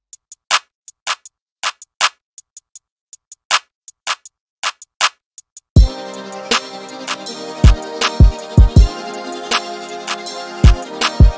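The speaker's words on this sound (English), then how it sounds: "Then we have this hi-hat coming in, as well as this clap" Crisp hi-hat ticks and sharp claps play a quick pattern alone, then continue over a synth pad with thumping kick drums joining halfway, in a beat.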